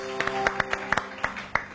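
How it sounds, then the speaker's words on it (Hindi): Audience applauding the coaches who train young girls, a scattered run of distinct hand claps at moderate volume over a steady hum, with no talk. "मैं चाहूंगी इनके लिए भी जबरदस्त जोरदार तालियां हो जाएं"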